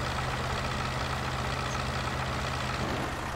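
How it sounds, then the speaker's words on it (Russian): A JCB 4CX tractor engine in the Spin Tires video game idles with a steady, loud low drone and constant hum, running alone without talk throughout. "Отличный трактор."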